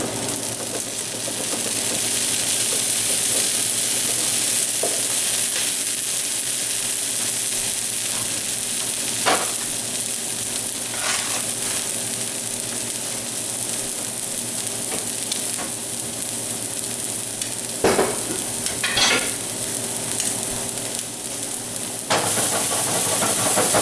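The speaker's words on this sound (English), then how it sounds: "Okay, the egg's starting to get brown around the perimeter." An egg fries loudly in a pan for steak and eggs, giving a continuous dense sizzle with a few sharper crackles and spatters, and no voices.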